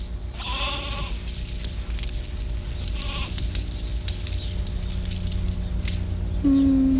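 A goat bleats twice in wavering cries close by, then again briefly near the end, over a steady background hum on a small farm.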